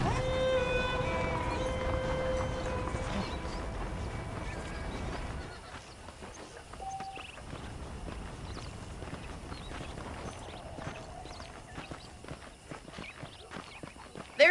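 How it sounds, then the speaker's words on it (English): Saddled horses in a Western open-world game walk and clip-clop with a steady hoof rhythm under game music that fades out, leaving hooves, a brief whinny-like tone and quiet ambience. "The horses are saddled up over here."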